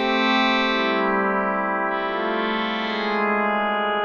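A Waldorf Blofeld synthesizer piano patch with its amp envelope raised plays sustained, buzzy held tones that swell and shift slightly in pitch, ringing on alone at moderate loudness with no voices.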